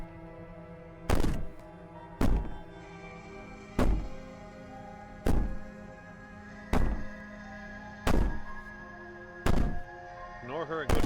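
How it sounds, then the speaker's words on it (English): Heavy, regular banging from Slay the Princess, seven loud thuds roughly every 1.5 seconds, with a faint low background hum between blows and no clear wailing. "Maybe the banging and wailing will stop if you just don't pay attention to it"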